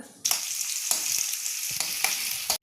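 Pickle ingredients frying in a pan of hot oil, a loud close sizzle that starts abruptly and runs on with sharp stirring scrapes and taps at intervals, no voices present.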